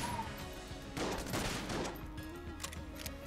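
Fast gunfire in Enter the Gungeon, a dense burst of shots peaking in the middle of the stretch amid game effects, moderately loud with no speech.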